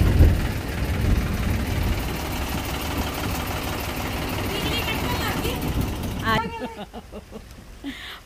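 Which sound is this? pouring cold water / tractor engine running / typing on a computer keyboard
tractor engine running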